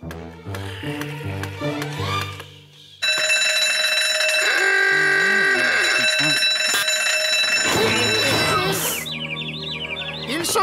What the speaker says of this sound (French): ma nouvelle invention de sonnerie de réveil fonctionne parfaitement